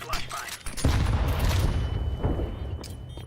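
Flashbang grenade detonating in Counter-Strike, a sudden loud burst followed by a sustained roaring ring and rumble that slowly fades, with game gunfire and voices in the background.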